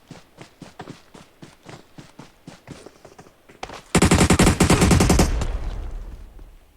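Gunfire in the mobile battle royale game PUBG Mobile: a run of evenly spaced single shots, then a loud, rapid automatic burst lasting over a second that trails off.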